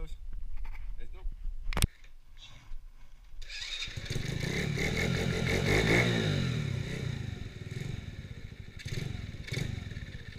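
Modified ATC70 mini three-wheeler pit bike on a night ride, its small engine roaring up and holding a raspy, revving drone for several seconds after a sharp clatter and quieter lead-in.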